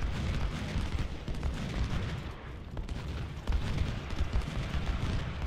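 Soldiers fire muskets in a Civil War battle at Gettysburg in Ultimate General: Civil War. Dense, continuous volleys of distant gunfire and booms rumble without pause, with faint talk underneath.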